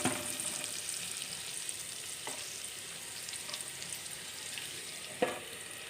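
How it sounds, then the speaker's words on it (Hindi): Okra with coriander powder cooks in a pan over low heat, making a soft, even sizzle that runs the whole time, broken by two brief clinks. "अब हम 5 मिनट के लिए इस भिंडी को पकाएंगे"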